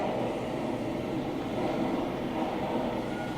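A steady, continuous train rumble used as a sound effect in a stage production of The Curious Incident of the Dog in the Night-Time, heard alone at an even level throughout with no voices over it.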